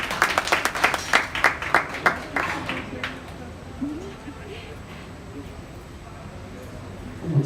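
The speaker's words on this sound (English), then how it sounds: "Let's give her a round of applause for her job well done" An audience at a junior livestock show claps for a champion heifer, a burst of loud, dense applause for about three seconds that fades into crowd murmur and quiet talk.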